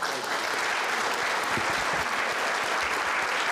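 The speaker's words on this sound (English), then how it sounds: "Please help me give a warm round of applause to Tom for demonstrating the initiative as a champion of character." Dense, steady clapping from an audience at a community awards event honouring a local champion of character, loud and sustained throughout with no voices above it.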